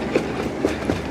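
A train idles and rumbles at a railway platform, a faint steady mechanical drone with a few soft clunks, alone without talk.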